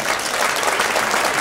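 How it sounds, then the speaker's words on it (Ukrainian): Dense, sustained ovation from a theatre audience at an international ballet festival gala concert in Kyiv, steady loud clapping filling the hall without a break. "завоювала ваші неймовірні овації Олександра Панченко."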